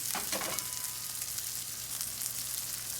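Salmon sears in an iron skillet, its flesh side down, with a steady, dense sizzle and crackle that runs without a break. A few louder spatters come near the start. No one speaks.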